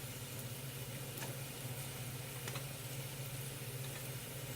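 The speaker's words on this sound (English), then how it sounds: "my oxtail and onions are browning" Oxtail and onions browning in a pot give off a soft, steady sizzle, a faint, even crackle with a low hum beneath it.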